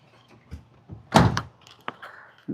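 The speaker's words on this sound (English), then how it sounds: "Let's shut that door." A door on a 1978 Winnebago motorhome is swung shut with a single solid thunk, preceded and followed by small knocks and rattles.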